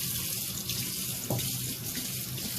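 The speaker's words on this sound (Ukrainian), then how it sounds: "Вода вже гаряча тече." Hot water runs from a tap, fed by a gas boiler powered through a Volt Polska Sinus Pro 800E inverter, a steady close splashing stream filling a sink, continuous with no voices.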